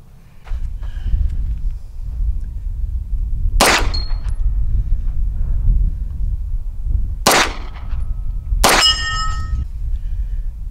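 Pistol shots from a Browning Hi Power and a Beretta 92 at an outdoor range: three sharp, loud reports spaced apart, each followed by a ringing metallic clang from a steel target, over steady background hiss.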